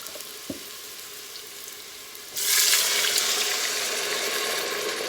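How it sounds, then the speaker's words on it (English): Broth poured into a hot Instant Pot during deglazing, a sudden loud hiss and sizzle bursting in partway through and holding steady, close up with no talk. "we're gonna add in 1 cup of this broth"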